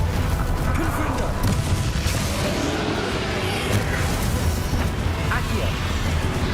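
A Confringo blasting spell explodes in the Hogwarts Legacy video game, a dense booming burst of fiery impact rumbling continuously amid battle noise, with voices talking underneath.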